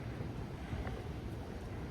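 Ocean surf washing onto the beach at Hilton Head Island, a steady broadband rush mixed with wind buffeting the microphone, close and continuous, with no voices.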